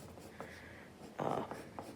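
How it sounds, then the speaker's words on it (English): A black colored pencil scratches over the lines of a doodle drawing of a hand. A short stroke is followed by a louder, longer rubbing stroke and a few light taps, all quiet and close. "colored pencil, and just kind of go over your lines a little bit to give that outline, especially of the hand."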